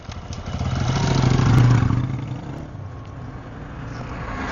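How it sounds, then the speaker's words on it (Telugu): A share auto rickshaw approaching on the road, its small engine rumble swelling closer, peaking, then settling back to a lower idle-like drone. "షేర్ ఆటో వస్తుంది, డైరెక్ట్గా కాలేజ్ దగ్గర అవుతుంది."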